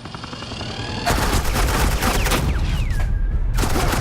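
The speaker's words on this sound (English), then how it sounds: "suppressing fire" Dense suppressing gunfire in a Batman video game, a rapid continuous rattle of shots that swells in after a second and stays loud and steady throughout, with faint whistling streaks over it.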